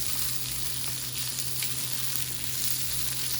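Chorizo sausage sautés in a pan with a steady, close sizzle and light crackle throughout, no voices over it.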